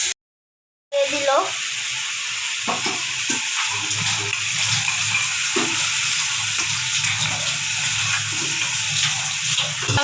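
Water poured into a pan of frying tomatoes and potatoes for rui fish curry, a loud hissing sizzle that bursts in after a brief silence and keeps bubbling steadily, close by.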